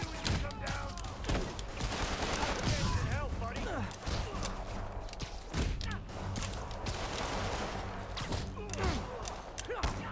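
Enemies fire at the player in a Spider-Man video game, with rapid bursts of gunshots and thuds scattered throughout, mixed with game voices and busy action noise.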